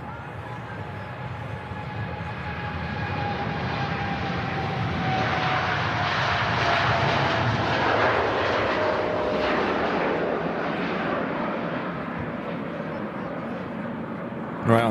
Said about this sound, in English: at the moment we've got this TUI Dreamliner heading off to Cancun